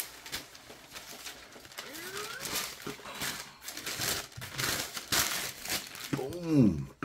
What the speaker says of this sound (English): Got your elephant print paper.